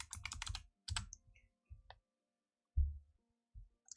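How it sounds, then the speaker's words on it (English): Keys on a computer keyboard clatter in quick bursts at first, then give way to a few isolated taps with gaps of silence, close and fairly soft. "I'm getting better at typing without having to look"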